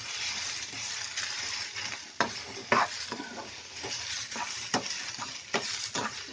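Drumstick leaves and moong dal sizzle as they are stir-fried in a pan, a steady frying hiss broken by sharp scrapes and clinks of a spoon stirring against the metal, heard close with no talking.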